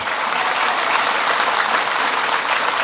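A crowd applauds a singing performance with dense, continuous clapping, loud and even throughout with no pauses.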